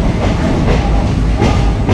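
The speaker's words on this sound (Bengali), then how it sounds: "আমাদের ট্রেন ধীরে ধীরে এই নিউ ফারাক্কা জংশনে ঢুকে গেল।" The 13466 Intercity Express rolls slowly into New Farakka Junction, a loud, close rattle of wheels clattering over rail joints in a steady rhythm.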